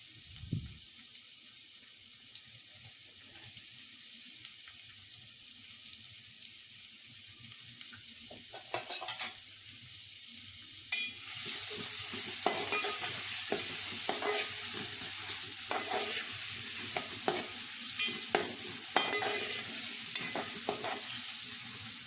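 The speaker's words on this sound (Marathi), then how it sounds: "कांदा शिजून गोल्डन झाल्यानंतर त्यात टोमॅटो आणि मिरची ॲड केली।" Tomato and green chili hit golden fried onion for chicken sukka; a quiet start gives way to a loud, crackling sizzle with repeated spatula stirring and scraping, close up and without speech.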